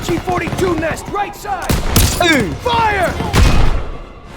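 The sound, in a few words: gunfire in the video game Call of Duty WWII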